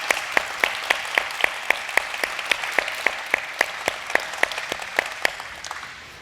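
Clapping at a federal issues forum held at the Nebraska State Fair, with distinct, evenly spaced sharp claps standing out over a softer background of scattered hands, tapering near the end.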